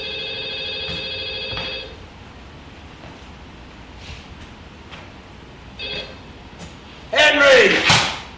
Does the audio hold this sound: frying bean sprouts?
no